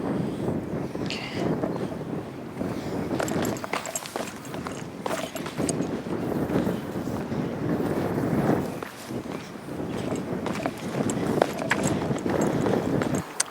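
Strong wind buffets the microphone on the Diamond Head volcano trail in Hawaii, a loud continuous roar in gusts, with scuffing footsteps and a few faint voices.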